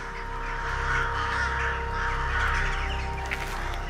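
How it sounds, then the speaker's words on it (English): Several crows caw repeatedly in harsh, overlapping calls, loud and fairly close, over a constant low hum during a golden eagle hunt in the wild. "These crows are not about to stay and pick a fight."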